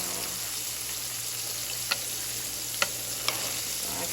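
Floured beef liver browns in a frying pan with a steady, close sizzle and crackle, broken by a few faint utensil clicks against the pan.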